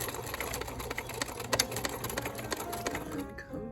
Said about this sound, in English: And then I'm gonna sew. We'll do a little back stitch